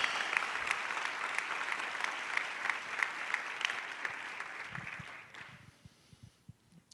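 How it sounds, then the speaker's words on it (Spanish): Applause from a church congregation at a sermon, dense and sustained for about five seconds, then thinning out into a few scattered claps. "Dale un aplauso al Señor"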